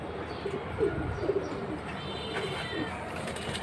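Soft, low coos of young high-flying pigeons repeat in short bursts over a steady background murmur, moderately close and fairly quiet.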